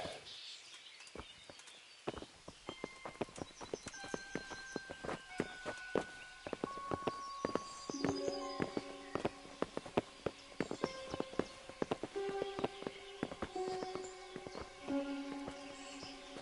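Steady clip-clop of horse hooves walking at an even pace in an Assassin's Creed video game on PS4, with occasional bird calls and a bright musical tone in the background.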